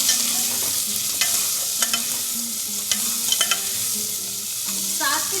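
Tomatoes tipped into onions frying in a pan for a home-style curry, loud close sizzling with repeated scraping and clattering stirs of a spoon against the pan.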